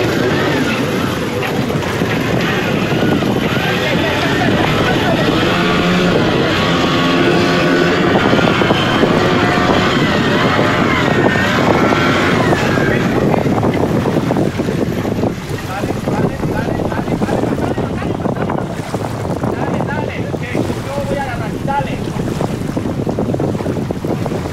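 The Calico Skies sailboat, its prop offset, motors in reverse near Bocas del Toro, a steady engine drone blending with strong wind buffeting and lapping water throughout, with voices talking intermittently over it.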